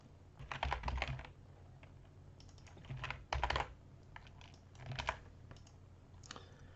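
Rapid keystrokes on a computer keyboard as a password and email are entered, coming in several quick clattering bursts separated by brief pauses, close and clear with no talking.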